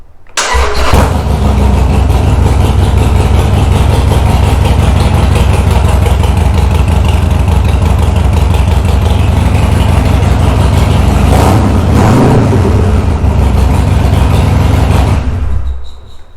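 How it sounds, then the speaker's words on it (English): A Harley Sportster motorcycle with a new lithium-ion battery cranks briefly, fires and settles into a loud, steady, rumbling idle close to the mic, running for several seconds before cutting off near the end. "Let's see if this bad boy fires up now with this new battery."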